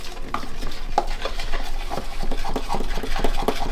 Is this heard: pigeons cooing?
no